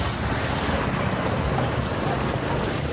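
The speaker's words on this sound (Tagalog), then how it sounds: "Ayan na mga boss, ayan, lakas ng ulan." Heavy rain pours down at a flooding vehicle queue, a dense, loud and continuous hiss of downpour with no break, voices barely present beneath it.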